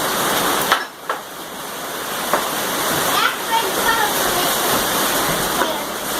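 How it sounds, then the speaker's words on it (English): Heavy rain pours steadily outdoors during a tractor tire change, a constant dense hiss with a few sharp knocks and taps rising above it. "Nothing good about the rain."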